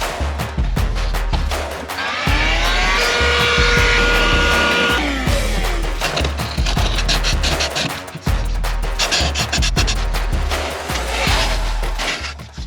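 A power drill bores a hole with a 1 3/8 inch Forstner bit, a loud continuous whirring grind close by, with the pitch shifting as the bit bites and briefly pausing before spinning up again.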